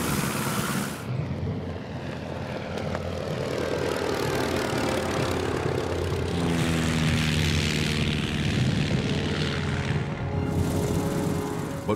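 Vintage propeller fighter plane in flight, a steady droning engine and airscrew roar that holds loud and continuous throughout, swelling slightly midway with no voices.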